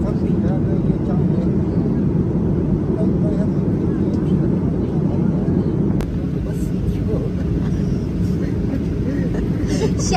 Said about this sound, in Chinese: 现在降落了啊